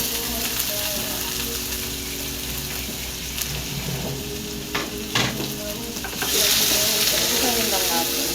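Onion and squash frying together in a pan, a steady sizzle with stirring scrapes and a brief burst of louder frying near the end; no talking.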